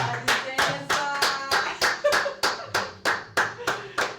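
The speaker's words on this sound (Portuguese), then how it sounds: "Uma salva de palmas para Áurea Carolina." An audience claps in a steady, rhythmic burst of applause welcoming a guest onto a Brazilian talk-show stage, loud and close, about a dozen even beats.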